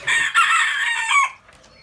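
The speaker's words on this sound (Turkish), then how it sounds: "Horoz aktif." A single rooster crows close by in a chicken coop, a long harmonic call lasting about a second and a half, then fading into quiet.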